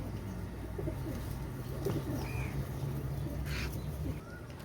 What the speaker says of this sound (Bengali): দেখেন আমার লফটের অল্প কিছু কবুতর দেখাবো।